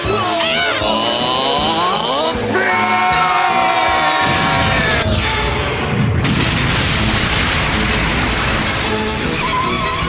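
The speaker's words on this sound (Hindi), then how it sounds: "देर हो गई पर धमाका तो देखने को मिला" A loud booming explosion erupts midway in a Pokémon cartoon, following whooshing, sliding tones, then a roaring, crackling rumble that lingers.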